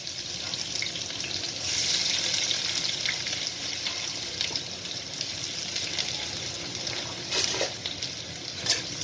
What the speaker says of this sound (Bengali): আর এলাচ 2টো ফাটিয়ে দিলাম। এরপর দেব পেঁয়াজ,